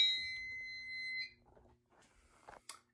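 A fire alarm sounds during a heat detector test on a home demonstration alarm system: a steady, shrill electronic tone for just over a second that then cuts off, followed by faint clicks and handling noises.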